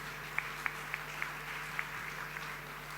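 An audience at a regional presentation event claps in a sparse, faint round, a few distinct hand claps standing out over a steady room hum and low murmur.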